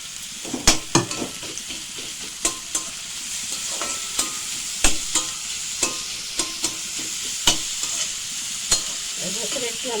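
Pointed gourd seeds fry in a pan under a constant sizzle, with about a dozen sharp clacks of a spatula against the metal at irregular intervals, close and fairly loud.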